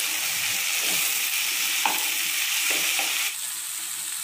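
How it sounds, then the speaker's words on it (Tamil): Sliced bitter gourd sautéing in hot oil in a pan for a Tamil kara kulambu, a steady close sizzle with faint stirring scrapes and a slight drop in intensity near the end, no talking. "இப்போ நம்ம அரிஞ்சு வச்சுருக்க பாவக்காயை சேர்த்துக்கலாம். நல்லா எண்ணெயிலேயே வதக்கிக்கலாம்."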